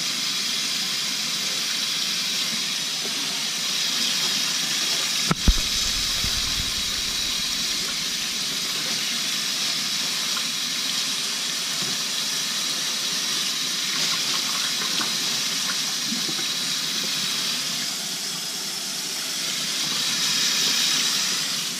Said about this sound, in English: That water that sticks to them is going to be our cooking water that'll steam them down.